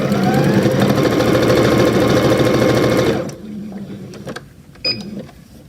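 A sewing machine runs steadily for about three seconds, stitching a seam at an even, dense mechanical hum, then stops, leaving faint handling clicks and a small thump.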